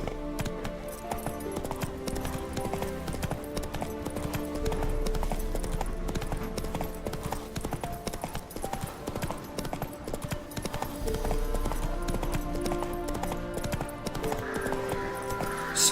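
Hooves of a horse clip-clop steadily in The Witcher video game, a continuous rhythmic gait running the whole length over a dense orchestral music bed, with a brief faint whinny possible.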